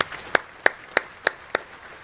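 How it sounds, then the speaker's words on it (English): Five sharp, evenly spaced claps at a slow steady rhythm, sounding like a single person or a small group at an Army change of command ceremony honoring Army families, with no sustained crowd applause. "So one last final round of applause for all the great Army families that are in attendance today."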